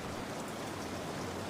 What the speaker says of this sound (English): The rain is no longer speaking in sentences, but is now just breathing a long, slow, and contented sigh.